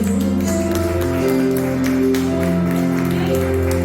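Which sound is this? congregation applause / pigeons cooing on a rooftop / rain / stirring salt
congregation applause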